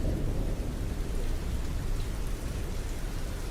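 Heavy rain pours in a dense, continuous hiss while deep thunder rumbles underneath, loud and unbroken from start to finish.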